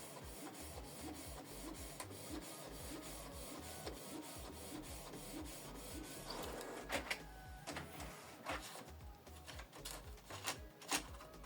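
A Canon TS8750 inkjet printer prints a photo fed from the rear tray, with a rhythmic mechanical whir and repeated clicks and clacks as the print head moves, close and steady, no voices.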